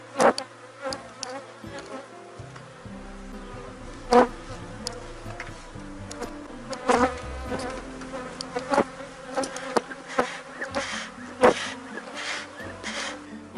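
A honeybee colony being inspected after a hive split hums with a continuous buzz of many bees close by, interrupted by sharp clicks and knocks of frames and equipment being handled.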